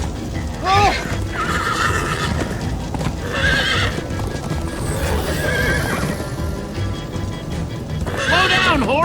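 A horse in the Minecraft Story Mode video game whinnies several times over busy galloping hoofbeats, with voices talking in between.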